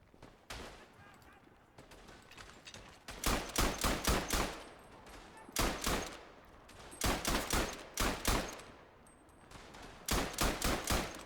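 Short controlled bursts from a rifle in the First World War shooter Verdun: clusters of three to five sharp, loud shots separated by pauses, with quieter distant battlefield gunfire in between.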